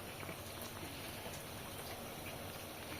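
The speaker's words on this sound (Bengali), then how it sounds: "আর এই যে এখানে বড়া ভেজে নিচ্ছি" Fritters (bora) frying in hot oil, giving a steady, dense sizzle and crackle that stays close and even for the whole span, with no voices.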